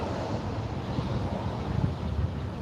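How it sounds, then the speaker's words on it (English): Outdoors at a DUI checkpoint in North Hollywood, a light breeze buffets the microphone with a continuous low rumbling roar and no clear gaps. "it's a little bit windy, but not not bad"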